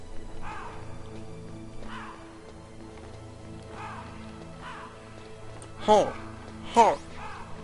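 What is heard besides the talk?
crows cawing in video game Metal Gear Solid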